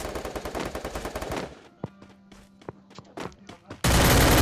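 MP5 submachine gun fire in the mobile battle game Free Fire: a rapid, loud burst that stops abruptly, then scattered single shots and footsteps, and a loud blast of noise at the end.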